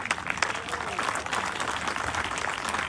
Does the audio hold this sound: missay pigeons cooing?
no